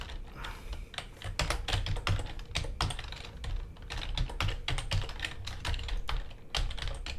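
Fast, steady typing on a computer keyboard while entering code for a top-down action adventure game, with dense clicking keystrokes and short pauses, close and clear, no speech.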